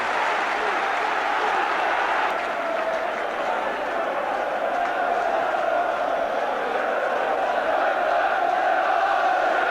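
A 33,000-strong football crowd roars continuously at the 1986 FA Cup fourth-round match between Chelsea and Liverpool, a dense, sustained wash of cheering from the stands, with a commentator's voice faintly present.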